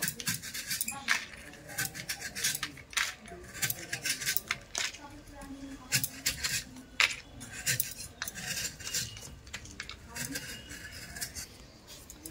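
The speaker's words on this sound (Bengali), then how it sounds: "আমি আখের গুড়টা কেটে নেব বটি দিয়ে" Repeated light chopping and scraping as a block of sugarcane jaggery is cut with a boti blade in a home kitchen, irregular close clicks and taps with quiet talk underneath.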